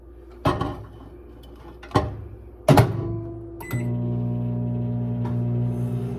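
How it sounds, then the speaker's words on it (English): A few clunks and clicks of a door and buttons, then a steady low hum as a microwave starts running. "we're gonna sit this in the microwave"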